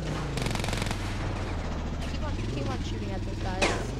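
Rapid automatic gunfire in the Ravenfield combat game comes in dense, steady bursts with sharper shots near the end, under continuous voices and other game sounds.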